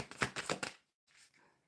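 Tarot cards are shuffled close by in a quick riffle of several rapid flutters, then after a short gap a few softer card rustles follow, with no talk.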